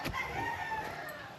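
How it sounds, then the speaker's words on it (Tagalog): Pet chickens cluck nearby with a rooster crowing among them, short bursts of close, loud fowl calls. "May mga manok po kayong alaga, no?"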